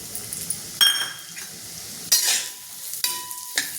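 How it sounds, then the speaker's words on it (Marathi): Broken wheat (dalia) roasts in a pan with a faint dry sizzle, broken by several sharp scrapes and clinks as a spoon stirs it against the metal, close and with no talk. "आता याच्यामध्ये हे जो दलिया आहे ते आपण छान लालसर दहा मिनटं भाजून घेऊ"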